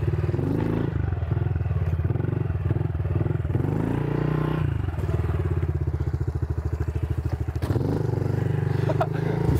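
A pit bike motorcycle riding on a dirt track with berms and turns, its small engine buzzing loudly and steadily up close and rising and falling with the throttle, along with occasional clatter and thumps.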